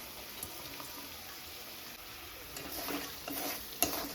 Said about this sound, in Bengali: আলুটাকে ভালো করে একটু কষিয়ে নিই